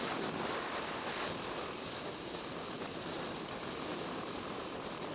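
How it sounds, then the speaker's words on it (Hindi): A clear mountain stream flows past in a steady, even rush of water that holds at a constant level throughout, with no voices. "ये देखो यार पानी कैसे बहता हुआ आ रहा है"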